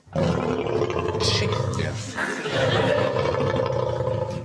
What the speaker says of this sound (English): This is the sound of a lion.